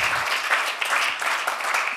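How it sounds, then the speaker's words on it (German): Church event audience in Frankfurt breaking into sustained applause, a dense wash of many hands clapping at once, loud and continuous throughout, with voices faintly mixed in. "Ihr dürft mal einen fetten Applaus geben für Frankfurt."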